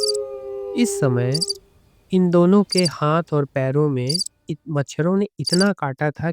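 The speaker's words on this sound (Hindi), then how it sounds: "वहाँ की हवा झींगुरों और अन्य रात के कीड़ों की आवाज से गूंज रही" Crickets and other night insects chirp in a dense forest along railway tracks at night, a thin constant chirring beneath a voice narrating throughout.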